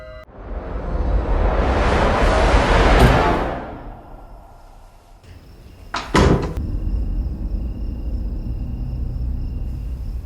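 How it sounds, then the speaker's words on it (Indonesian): A wardrobe door shuts in a scene from the horror film Mama (2013): a swelling whoosh fades to a low rumble, then a brief sharp thud lands, with an eerie hum lingering after. "Karena pintu lemari terbuka, Annabelle pun akan menutupnya."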